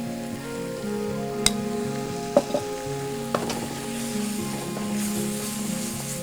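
Masala and ginger garlic paste frying in a pan for a Kerala vegetable mix, a soft steady sizzle with a few sharp spoon clinks against the pan, nearby and moderately quiet, no voices.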